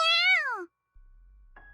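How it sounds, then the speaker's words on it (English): A small black kitten in a video game gives one sweet, drawn-out meow with a rising then falling pitch, close and clear, followed by a pause and a low electronic hum. "The transceiver cat meows sweetly in reply."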